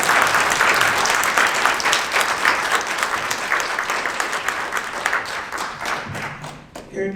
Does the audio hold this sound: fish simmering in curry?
no